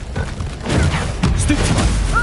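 Spell blasts from Bombarda and Incendio in a wizard video game, a burst of booming, crackling impacts that holds loud from midway, with a voice speaking over it.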